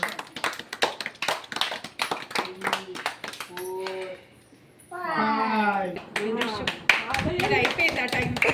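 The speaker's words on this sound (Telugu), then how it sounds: "బర్త్డే క్లాప్ క్లాప్ క్లాప్ చూడండి" A small family group claps in quick, close bursts at a 33rd wedding anniversary cake cutting, mixed with a voice and adults talking over the applause.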